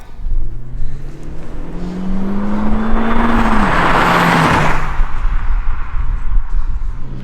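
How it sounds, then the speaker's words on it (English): An Audi A3 Quattro accelerates hard from inside the cabin, its engine note rising steadily through a gear, then briefly dropping at a shift before a loud, steady drive with road roar. "we are in the Audi A3 Quattro, giving it a bit of a drive"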